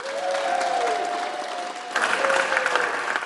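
Senate Democrats applaud and cheer in the chamber after their $1.9 trillion COVID relief bill passes, a dense burst of clapping with a raised whooping voice riding over it, steady and close.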